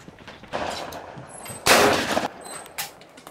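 A Benelli Montefeltro shotgun fires at sporting clays outdoors, giving one loud, close blast that rings out briefly, with softer, more distant shots before and after it.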